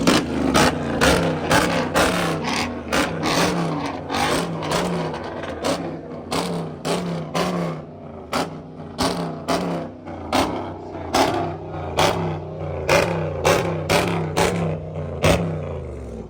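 A car engine revved hard at a car meet, loud and close, in a long run of rapid rhythmic throbbing bursts over a continuous roaring rumble.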